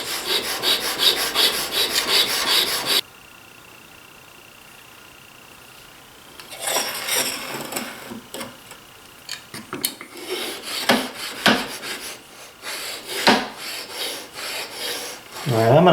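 A router plane iron being sharpened on a stone makes a loud scraping rasp at first, then a short quiet pause, then irregular rubbing and grinding strokes that vary in strength.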